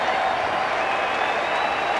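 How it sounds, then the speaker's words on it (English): Mets fans applaud at Yankee Stadium after a baseball game, steady dense clapping and crowd noise filling the stadium with no pauses. "only the Mets fans are left. And they applaud."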